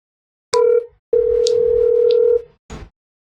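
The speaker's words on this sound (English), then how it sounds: "I'm going to phone a friend real quick." A telephone dial tone is followed by a ringback while a call is placed to a friend from a game show, with two long steady tones and a short final burst, and no talking.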